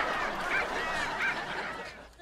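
Migrating birds honk in goose-like calls, caught on a phone recording, with two clearer honks rising over a dense, noisy wash of flock calls.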